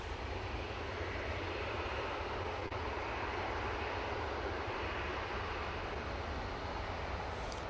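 An airliner departing Manchester Airport for Malaga gives a steady, broad jet roar that holds evenly throughout, with no voices.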